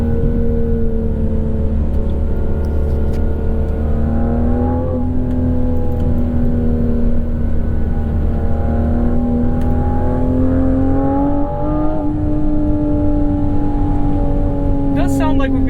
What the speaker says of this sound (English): It does sound like we've got a decent bit of fake engine noise